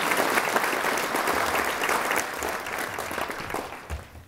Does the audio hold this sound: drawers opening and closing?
no